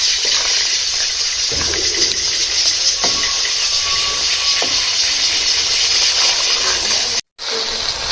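Keema, minced meat, frying in ghee: a steady, loud hiss of sizzling fat runs throughout, broken by a brief moment of silence near the end.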